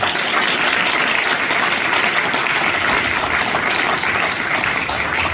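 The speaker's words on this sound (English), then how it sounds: "Let's give him a big round of applause, please." Audience applause at a theme park announcement event, a dense, loud, continuous wash of clapping that fills the whole stretch evenly without pause.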